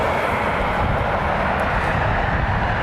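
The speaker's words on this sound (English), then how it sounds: "Delta Airlines Flight 726 lining up for departure. 737-900 will be heading to Atlanta" Delta Airlines Boeing 737-900 lining up for departure at Cleveland Hopkins airport on a foggy day, a loud, continuous broadband engine roar that stays steady from start to finish.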